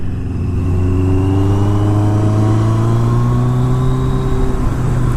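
A Yamaha 750 Maxim motorcycle engine revs up in a steady, loud rising drone, its pitch climbing smoothly over several seconds under a whirring road noise.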